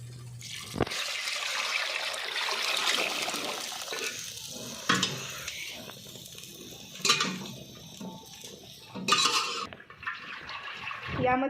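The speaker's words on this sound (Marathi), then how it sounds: "त्या भांड्यात मी आणखी थोडंसं पाणी घालून यामध्ये ओतते" Water is poured into a cooking pot while a spicy chicken curry is prepared. The splashing and trickling run through most of the clip, close by, with a few brief louder clatters of a pot and pan.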